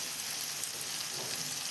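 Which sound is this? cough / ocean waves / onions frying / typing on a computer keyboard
onions frying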